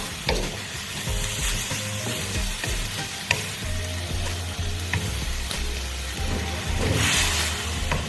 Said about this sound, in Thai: เราก็จะคนให้หมู เข้ากับส่วนผสมเลยนะคะ